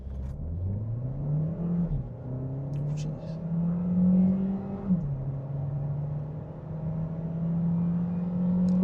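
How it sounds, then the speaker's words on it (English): A 2015 Volkswagen Golf Sportsvan accelerating hard from a standstill, engine note rising steadily through gears with clear shift dips, a close cabin hum throughout. "We were gonna do 0 to 100."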